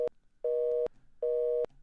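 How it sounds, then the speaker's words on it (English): A telephone engaged busy signal from the video game McKenzie & Co gives steady, evenly spaced beeps: a clipped tone and then two full ones, loud and clear with short silent gaps between. "I guess that sound is engaged?"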